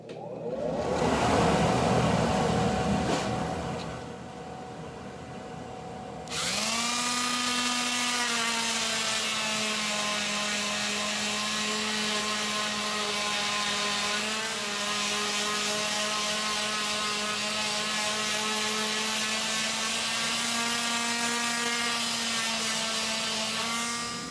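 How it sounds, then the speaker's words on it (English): A power sander starts up and runs steadily on an oak console, a dust collector hose held close to the work; a loud, sustained whine with a constant pitch, after a few seconds of quieter broadband noise before switch-on. "So I'll turn on the sander and you'll see how that all works."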